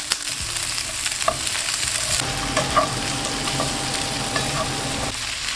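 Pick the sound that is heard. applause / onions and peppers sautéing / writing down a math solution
onions and peppers sautéing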